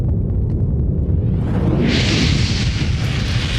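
A gas fireball erupts indoors during a building fire: a loud, continuous roaring rush that swells into a brighter hiss partway through and holds steady to the end, with no voices.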